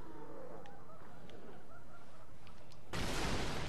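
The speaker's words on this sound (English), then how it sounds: "I hear birds." Birds call faintly in the Bloodborne video game, with sparse honking cries over a low ambient bed, and a loud burst of broadband noise near the end.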